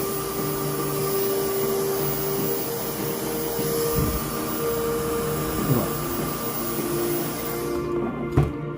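Hair dryer blowing air into a wig during styling, a steady close whooshing hiss with a faint motor whine, briefly cut off near the end.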